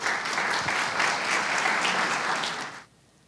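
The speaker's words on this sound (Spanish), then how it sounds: "Por favor, recibamos a Fernando con un aplauso." Lecture audience in Colombia gives a steady, dense round of clapping to welcome a speaker, holding evenly for almost three seconds before stopping abruptly into near silence.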